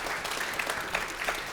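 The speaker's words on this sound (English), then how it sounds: "appreciate if we just give them a round of applause" Conference audience clapping for panellists at an aviation cabin technology event, a brief, even patter of applause at moderate distance.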